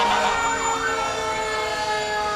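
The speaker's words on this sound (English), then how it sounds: "The one time you hear a siren and don't think the worst." Fire engine siren at a St. Patrick's Day parade, a loud sustained wailing tone with steady harmonics, continuous and fairly close, with no talk over it.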